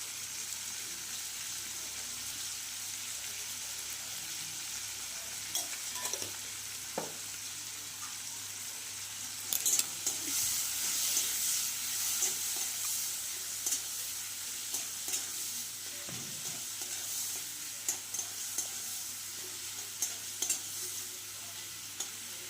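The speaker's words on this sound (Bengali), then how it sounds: "চিংড়ি মাছ হচ্ছে বেশি ভাজবো না, অল্প করে ভেজে নেবো" Prawns fry lightly with salt and turmeric, giving a faint, steady sizzle with occasional stirring clicks and no talking.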